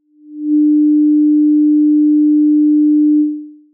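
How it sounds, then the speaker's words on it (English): A steady, pure 300 Hz sine wave tone fades in, holds at an even, loud level for about three seconds, then fades out, with nothing else heard. "Another example could be a simple sine wave audio tone. Let's say 300 Hz."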